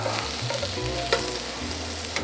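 Apple frying in butter in a pan gives a steady, close sizzle with a few soft clicks, with no voices.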